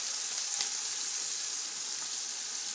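Continuous hiss and crackle of vegetable biryani ingredients frying in hot oil in a pan while being stirred, a steady, close sizzle with no talking.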